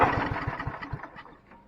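A cheap snowblower engine cranks over in a quick run of rhythmic chugging pulses, close and fairly loud, which soften and fade toward the end without settling into a steady idle.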